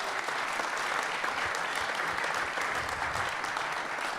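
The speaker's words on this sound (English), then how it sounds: "Big round of applause." A sold-out live show audience gives a steady, full round of applause, dense continuous clapping from a packed room with no break.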